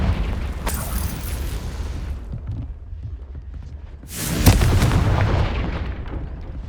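Confringo fire spell explosions in the video game Hogwarts Legacy, two loud booming blasts several seconds apart, each with a rumbling tail that fades.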